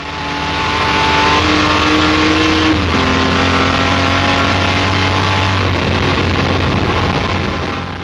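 A Jaguar D-Type race car's engine roars loud and close on track, holding a steady high drone with a brief pitch dip as the throttle is eased, then pulling on again continuously.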